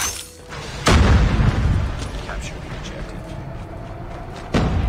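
A bomb blows up in a first-person shooter game, a deep, loud boom that rumbles and fades, then a second heavy thud near the end, all over steady game background noise.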